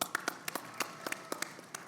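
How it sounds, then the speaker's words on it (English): A small audience at a WAWTech 2025 tech podcast session gives a thin round of applause. The scattered, uneven claps from only a few people sound faint and brief. "let's give a round of applause"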